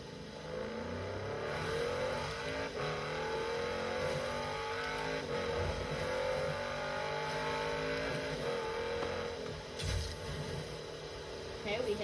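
Lamborghini Urus engine rumbling and revving while driving, a steady throaty drone that rises and falls in pitch under road noise, heard from inside the cabin.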